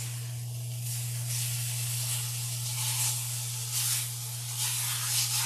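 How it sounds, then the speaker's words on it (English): Meat sears in a pot over medium heat on a glass stove top, giving a steady close hiss and sizzle that swells and fades in bursts over a low constant hum. "I'm keeping this at a medium. All right, I'm just searing the nice edges."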